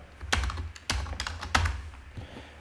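Three short bursts of typing on a computer keyboard at a Linux bash shell, each a quick cluster of clicky keystrokes spaced roughly half a second apart, close and clear with no voice.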